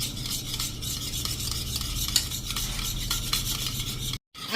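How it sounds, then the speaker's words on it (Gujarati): Paneer is stirred in a pan with turmeric, garam masala and salt, a close, busy scraping and rasping of a utensil against the pan that runs continuously, then drops out briefly near the end. "આને આપણે સરસ એકદમ મિક્સ કરી લેશું"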